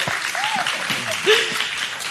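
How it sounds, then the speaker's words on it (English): Crowd applause at a cryptocurrency community panel at WalletCon II, a steady wash of clapping throughout, with a faint rising whistle or voice briefly above it. "Yes, please clap."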